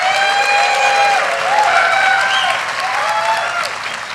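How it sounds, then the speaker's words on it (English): Applause from a crowd gathered at a motocross drivers' meeting, a steady wash of clapping that holds for about four seconds, fairly loud and close, with faint whoops or voices rising over it. "So round of applause for this guy here and his wife, Legacy."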